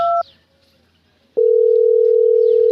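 A phone line sounds as a call is placed: a short double beep, about a second of near silence, then one steady, loud electronic tone that holds to the end.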